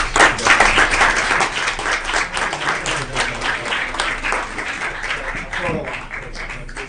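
An audience at a regular scheduled meeting gives a round of applause to the Liberty Creek cheerleading red team: sustained dense clapping close to the microphone, with voices talking over it.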